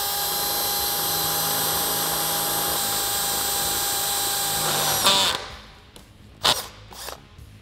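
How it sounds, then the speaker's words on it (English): A power drill with a 7/32 inch bit bores a hole during a Jeep Wrangler JK suspension lift install, whining steadily at high speed for about five seconds, then stopping, followed by a few short bursts and clatter. "Now we can grab our drill and our drill bit."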